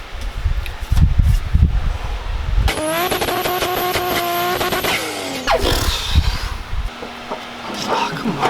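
Subaru WRX engine with a newly installed turbo uppipe runs loud and close, a rising tonal whine and rev that holds for a couple of seconds then drops, between rough clattering idle and handling noise.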